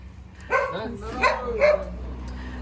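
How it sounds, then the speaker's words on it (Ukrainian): A dog barks three times in close succession, loud and near, with sharp yelping tones over a low background hum. "і тут чую собака, я чую собаку"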